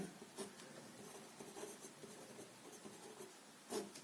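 A pen scratching across paper while a maths solution is written out, a soft and steady scribbling at close range with small strokes and pauses, faint and with no talking.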